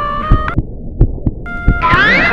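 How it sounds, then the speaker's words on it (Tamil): A heartbeat sound effect thumps in steady lub-dub pairs, loud and close, beneath sustained humming tones that swell into a rising chord at the end. "ஒரு ஹார்ட் பீட் கேட்டுட்டே இருக்கணும்"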